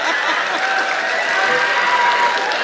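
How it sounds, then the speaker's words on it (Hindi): An audience applauding steadily at a Hindi comedy poetry recital, dense sustained clapping from a crowd, loud and continuous throughout with faint laughter mixed in. "ताली तो आप लोग ऐसे बजा रहे जैसे बारात आए थे।"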